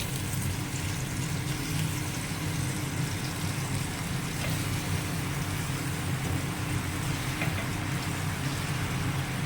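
Chicken wings go into a frying pan with softened onions and a splash of water for barbecue-style wing fry, giving a steady, dense sizzle and crackle that runs unbroken throughout.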